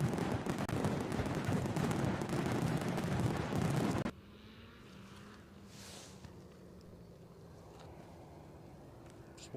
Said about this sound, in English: I can hear a plane on its way in.